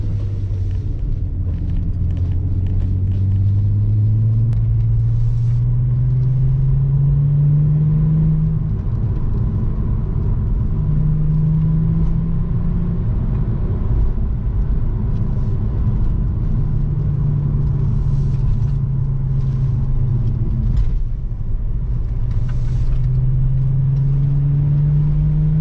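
A VW Jetta wagon with a 12-valve VR6 engine drives along a winding road, its engine note climbing and falling through several rising sweeps over a steady rumble of road and wind noise.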